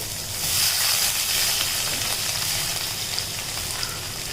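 Chopped onion, tomato and green chili sauté in a hot pan for a quail gravy, giving a steady close sizzle and hiss with a slight swell early on, no voices.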